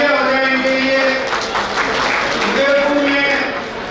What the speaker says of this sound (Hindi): इनके लिए एक बार बहुत तालियां बजाएं इनके लिए